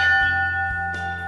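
A single memorial bell struck to honor Sparks firefighters who died in the past year, at a fire department anniversary ceremony; one clear ring rises and rings on alone, with a soft second touch near the end.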